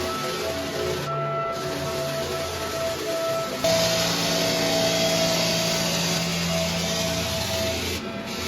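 Floor sanding machine running a very aggressive ceramic 36-grit abrasive across a stained wood floor, a steady loud motor drone with a hissing grind that swells partway through and drops off near the end.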